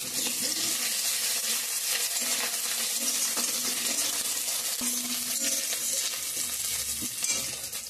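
Crushed ginger and five-spice seeds frying in a hot pan, a loud continuous sizzle with scattered crackles and light stirring scrapes throughout.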